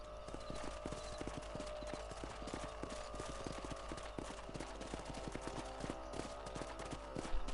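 Steady, rhythmic clip-clop of a horse's hooves rides through the whole stretch in Red Dead Redemption, quiet and even-paced with no talking over it.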